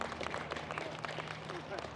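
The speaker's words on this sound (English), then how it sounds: "Let's give him a round of applause." Audience applause at an amateur trail riding clinic, moderate clapping throughout with a voice talking over it.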